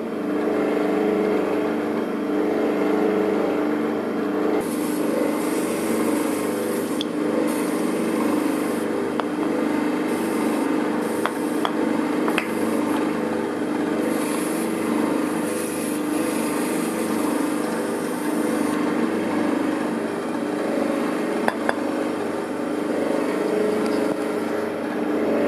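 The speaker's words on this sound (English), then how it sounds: "You would just turn this round to however long you wanted it to run for. 10, 15, 30 minutes, and away it spins." A Lapmaster 24 flat lapping machine runs with its plate spinning, giving off a steady mechanical hum and whir that holds at moderate level throughout, broken by a few faint ticks and clicks and no talking.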